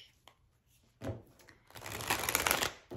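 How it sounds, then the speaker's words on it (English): A herbology oracle card deck is tapped and handled quietly, then riffled in a loud, dense shuffle lasting over a second, close to the listener, with no talking. "So I'm going to start with a oracle card out of a herbology deck."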